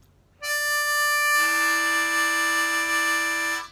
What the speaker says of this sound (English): This is a very common split heard in blues.